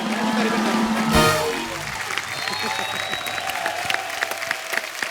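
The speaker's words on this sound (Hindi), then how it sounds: "जोरदार तालियां गोविंदा सर के लिए।" Studio audience applause greets Govinda's entrance on the Kapil Sharma Show, a loud burst of clapping with a brief musical flourish at the start, then steady, slightly softer clapping continuing throughout.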